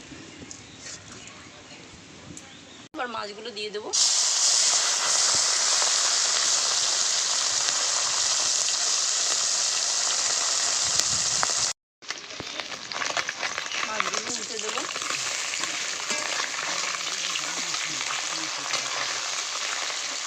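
Mustard oil hisses loudly in a hot wok for a village-style morala fish curry, a steady, dense sizzle that briefly cuts out partway through, with faint voices underneath.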